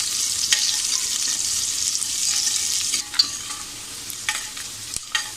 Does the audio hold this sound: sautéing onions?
yes